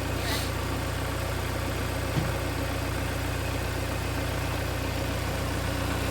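A tractor engine runs with its PTO engaged, giving a steady, even idling drone and low vibration throughout, with one faint knock midway.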